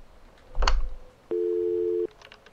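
Within a horror video game, a brief clatter of handling a phone is followed by one steady, clean tone of a telephone busy signal lasting under a second, fairly quiet against a low background.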